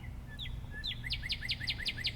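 An outdoor bird calls in a quick series of sharp chirps, a few spaced notes first and then a fast rhythmic run of repeated tweets, clear over a low background hum.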